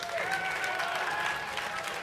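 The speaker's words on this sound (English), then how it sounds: "They're clapping for you, Luke." An audience at a PAX convention panel applauds, steady and full-bodied clapping from a large room, with a crowd murmur mixed in.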